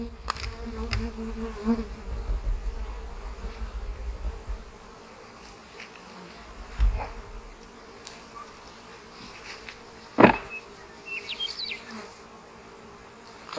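Honey bees buzz around an open nuc box with well-drawn comb, a low steady hum close by, and a sharper passing buzz breaks out near the end.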